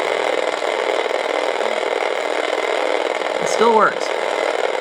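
A 1980 Kenner Electronics Red Line handheld electronic racing game running with a steady buzzing electronic drone and a brief warbling sweep near the end, while someone talks over it.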